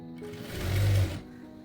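A sewing machine stitching a V collar neck runs in one short burst, rising and then stopping, close and alone.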